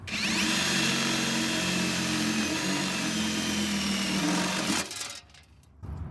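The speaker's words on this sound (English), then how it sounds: "I'm going to drill the hole with this" A power drill bores a hole during bus repairs, a loud steady whirring grind held for several seconds before it cuts off abruptly, leaving a few faint clicks.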